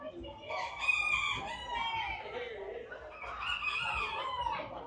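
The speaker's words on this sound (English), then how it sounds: "So chooks, roosters." Chickens and roosters at the Townsville agricultural show poultry pavilion, several birds crowing and clucking over one another in a steady, fairly close chorus with hall noise beneath.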